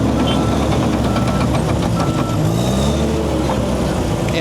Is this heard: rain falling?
no